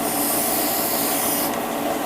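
Paint sprays inside a spray booth as a steady, close, loud airy hiss that runs unbroken, easing slightly toward the end.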